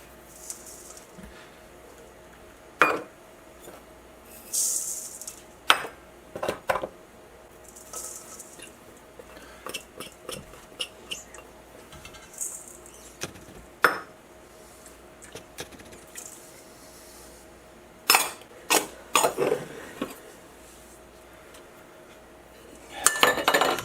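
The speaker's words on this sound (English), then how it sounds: "Let's mix all the ingredients together" Meatball ingredients, breadcrumbs, chopped onions, eggs and cream, are mixed in a bowl, giving soft squishing broken by scattered clinks and scrapes of a utensil against the dish, some louder than others, with no talking.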